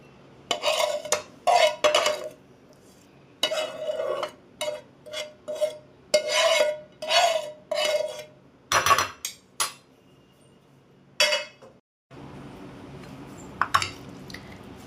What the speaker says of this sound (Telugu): తాలింపు ఎత్తురు మొత్తం కలిసేదాకా మంచిగా కలుపుకోండి